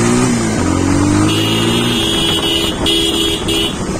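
Busy roadside traffic with cars and motorcycles passing close by, engines droning and revving steadily throughout, with a couple of short horn toots near the end.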